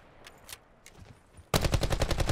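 Gunfire in Call of Duty Black Ops 4 Blackout, a rapid burst of loud automatic shots after a few faint scattered distant shots.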